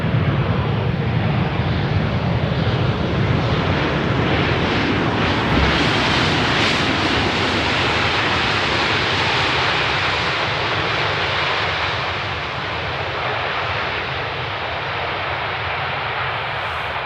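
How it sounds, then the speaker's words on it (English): A British Airways Airbus A319 jet arriving on runway 18R at Amsterdam Schiphol, a loud, steady engine roar close by that holds for the whole stretch and eases slightly near the end, with no voices. "Next up is an A319 from British Airways coming in from London Heathrow."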